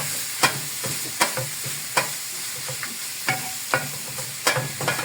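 Garlic frying in a pan for Saudi kabsa with lamb, stirred with a utensil: a constant sizzle under about a dozen sharp, irregular scrapes and knocks against the pan.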